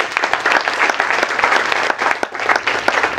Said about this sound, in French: applaudissez très fort pour vous-même